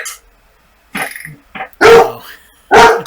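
A dog barks several times in short, loud bursts separated by pauses, heard close by in a room during an online meeting, with no talk over it.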